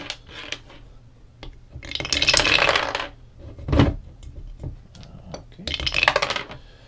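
Several dice rattle and clatter across a table during a Commands and Colors Ancients board game, coming in a few separate bursts of rolling, with brief quiet gaps between them.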